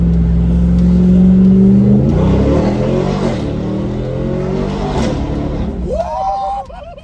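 Straight-piped, resonator-deleted exhaust on a RAM TRX pickup truck, a loud close rumble that rises in a rev and then settles into a gargling, popping idle, with a faint voice near the end.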